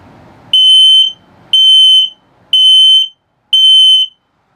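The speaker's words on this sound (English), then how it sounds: "and then the low battery alert." Carbon monoxide detector in a 2022 Flagstaff E-Pro 19BH travel trailer sounding its low battery alert: four loud, shrill, evenly spaced beeps about a second apart, each roughly half a second long, with faint room noise between them.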